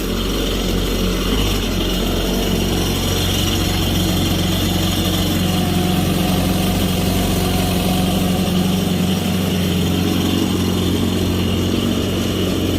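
A Kawasaki STX-15F jet ski engine idles steadily and loudly, a constant droning rumble with a faint hum, running without pause and no voices.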